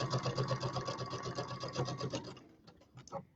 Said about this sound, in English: I usually sew a little faster than this, but the camera bounces really bad if I sew too fast